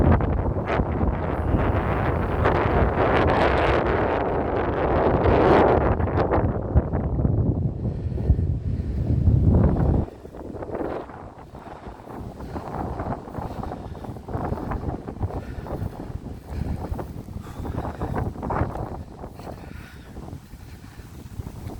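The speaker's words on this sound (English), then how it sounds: "I'm trying to put my back to the wind" Strong wind buffets a microphone on a hilltop, a loud, continuous roar for the first ten seconds that then drops to gustier, uneven rumbling and rustle.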